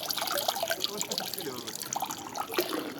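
Water runs steadily from a street drinking fountain in Switzerland, a close splashing trickle heard under people talking.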